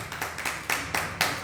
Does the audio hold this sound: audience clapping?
yes